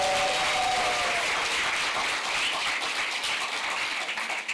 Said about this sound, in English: Can we have a round of applause for British Library?